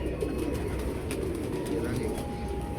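Pigeons coo softly at close range during a pigeon-flying wager, their low murmuring mixed into a steady, crowded background with voices talking.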